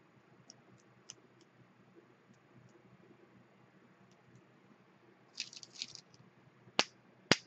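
A paintbrush flicks small drips of watery white-turquoise paint onto an art journal page, giving a few faint ticks and then several sharp, brief splats near the end against a quiet background.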